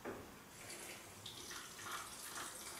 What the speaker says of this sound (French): Ensuite, on va mettre un peu d'eau.